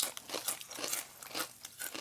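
Crunchy barbecue-flavoured snack bites chewed up close, a quick series of loud crisp crunches in an uneven rhythm with no talking.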